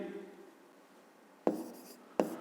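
Pen or marker writing out the third step of a fifth-grade maths exercise on segment lengths, soft scratching strokes with two sharper taps of contact, close and quiet, no talking.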